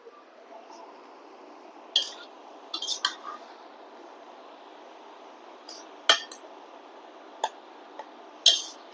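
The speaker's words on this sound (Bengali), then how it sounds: "এবার আমি ঢাকনাটা খুলছি" A metal pan lid comes off a pot of radish greens cooking with grated coconut and shrimp, giving a few sharp clinks and clatters spread over a quiet simmering background, fairly close and moderate in loudness.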